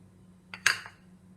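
Onions, green chilli, coriander leaves, ginger garlic paste, kasuri methi and amchur are stirred into missi roti dough in a bowl, giving a couple of brief close clinks of utensil against the bowl with no talking.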